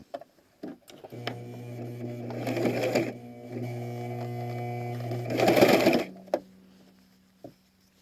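A sewing machine stitches bias tape for a face mask strap, running in two steady humming bursts with a brief pause between, preceded and followed by sparse clicks and handling taps.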